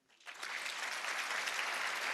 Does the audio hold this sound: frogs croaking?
no